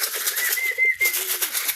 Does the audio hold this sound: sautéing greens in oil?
no